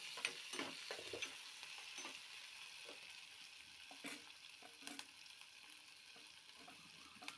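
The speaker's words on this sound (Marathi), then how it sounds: "टोमॅटो छान परतून घेऊ।" Tomatoes sauté in a pan with a quiet, continuous sizzle, broken by repeated soft scraping strokes and clicks as a spatula stirs them.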